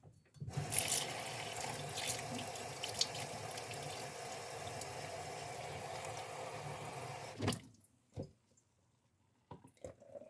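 Tap water runs steadily for several seconds, splashing and rinsing the edges of a protein shaker cup, then stops, leaving a few drips and small knocks in near silence.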